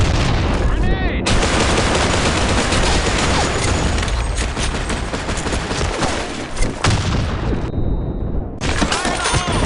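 Dense, loud video game gunfire in a sandstorm-map bomb-defusal match, with rapid bursts of automatic fire and heavy blasts from a grenade packed together almost without pause, and brief gaps and dropouts where the sound cuts.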